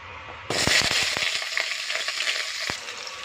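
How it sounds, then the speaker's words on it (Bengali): Potato pieces drop into hot oil in a wok, where the oil was earlier used for frying eggplant. A loud, steady sizzle starts abruptly, with sharp crackles and pops spread through it and no talking. "এবারে আলুটা দিয়ে দেবো, আলুটা একটু ভেজে নেব"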